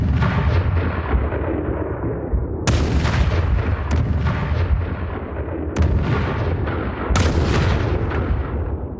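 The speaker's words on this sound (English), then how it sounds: "a dull, muffled roaring that grew louder and louder, while also rising and falling in time with the pulsing light" Artillery barrage at night, a continuous muffled roar of shellfire with several sharp, loud blasts breaking through at irregular intervals over a dense rumbling background.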